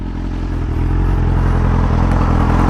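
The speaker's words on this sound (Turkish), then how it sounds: "Arkadaşlar egzozum kırılmış." A BMW S1000RR motorcycle with a broken exhaust runs loud and close, its engine giving a rough, steady, raspy drone with a crackling pulse.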